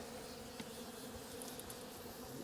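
Faint, steady buzzing of many honey bees inside a hive, a soft continuous hum with no voices.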